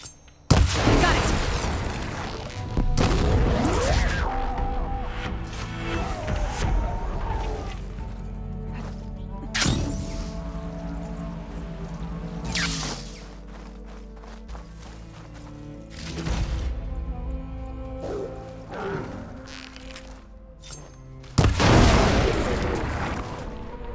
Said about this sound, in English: I'll need to shoot it off without killing the Ravager